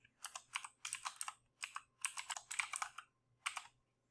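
Someone types on a computer keyboard while working through a coding exercise. Quick clusters of soft key clicks come in irregular bursts with short pauses between them, close and quiet in a still room.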